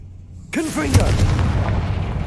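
A Confringo fire spell in Hogwarts Legacy bursts into a sudden booming explosion after a moment of near silence, followed by a sustained rumbling, crackling tail, with a voice calling out over the blast.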